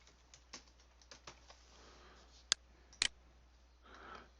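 Sparse, faint key clicks from a computer keyboard as text is entered in all caps for a house lot drawing, with a couple of sharper taps standing out near the end.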